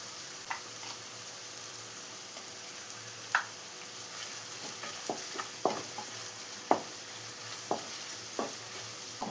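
Ingredients for egg rice sautéing in a pan until golden brown, a low steady sizzle with scattered light taps and scrapes of a spatula, fairly quiet and close.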